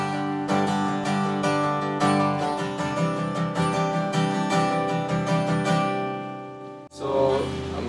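Acoustic guitar strummed fast without a pick, down with the index finger and up with the thumb, a quick even run of bright close strums that rings out, then a soft thump near the end.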